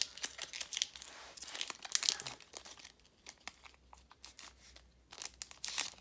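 Crinkly foil of a Pokémon card booster pack being torn open, with bursts of crackling and tearing close up, broken by short quiet pauses, and no talking.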